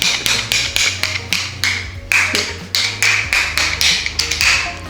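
Metal nesting tongs from an air fryer set click and tap together in quick, irregular bursts, sharp and close, with no talk over them.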